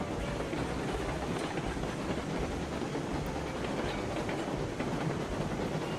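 A train in the video game Railroad Online climbs a slope, its dense, steady rumble and rail noise running continuously at a loud level with no talk.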